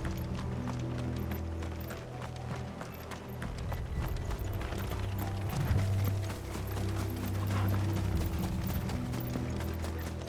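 Horses trot in the video game Final Fantasy XVI, a rapid, continuous clatter of hooves over low rumbling game sound and music, moderately loud throughout with no voices.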